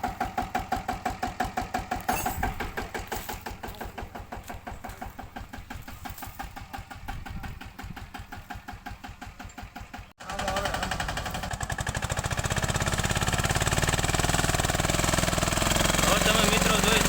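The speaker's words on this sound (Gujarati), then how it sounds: "તમે મિત્રો જોઈ શકો છો સ્ટીલ ટ્રેક કંપનીનું ટ્રેક્ટર છે જે 15 HPનું ટ્રેક્ટર છે." A Steeltrac 15 HP tractor's small engine chugs with a fast, even knocking beat close by; after a brief break it resumes louder and rougher, as if revved.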